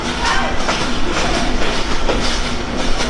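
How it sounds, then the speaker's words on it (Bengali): Kapotaksha Sagardari Express passenger train running past a crowded platform, a steady loud rumble of wagons with rhythmic wheel clatter throughout. "কপোতাক্ষ সাগরদাঁড়ি এক্সপ্রেস"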